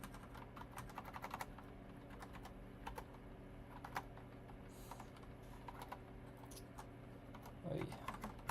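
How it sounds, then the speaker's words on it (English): Fingers type on a computer keyboard at a desk during coding, with quiet clustered key clicks in irregular bursts over a faint steady hum. "Still getting used to this keyboard."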